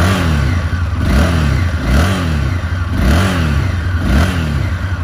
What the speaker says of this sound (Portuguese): Vou só ligar a moto aqui pra vocês verem.